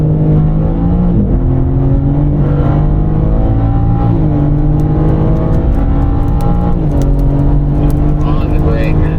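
A BMW M4 accelerates hard around the Desert Palm race circuit, its engine note climbing loud and close through repeated upshifts, with an instructor talking over the roar.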